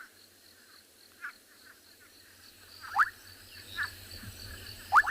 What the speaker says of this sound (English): frogs are going to be going about, calling out all night.